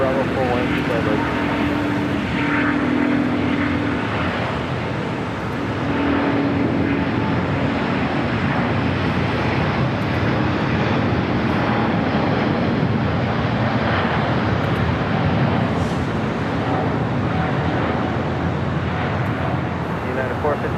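United Boeing 777 airliner touching down on runway 25 left at LAX, a steady roaring jet engine drone with faint radio chatter layered over it for about twenty seconds.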